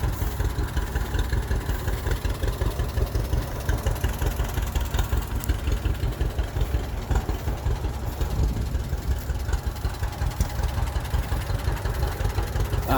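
A tractor engine idles steadily and close by, a continuous low rumbling throb with a fast even pulse and no breaks throughout.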